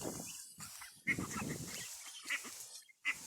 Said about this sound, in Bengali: তো চলেন আমরা একটু হাঁসগুলোকে দেখি